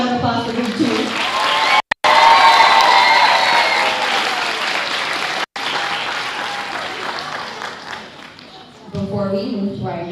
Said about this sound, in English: Let's give one more round of applause for group 2.